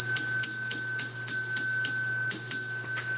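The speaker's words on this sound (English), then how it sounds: "I got to ring the bell 10 times." A bell struck about ten times in a steady, even rhythm, each ring bright and sustained, loud and close with no voices.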